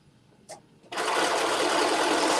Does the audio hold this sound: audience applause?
no